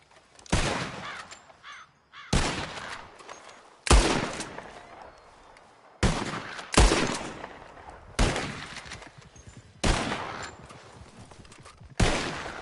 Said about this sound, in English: You shoot 4 birds out of the sky before me, you win.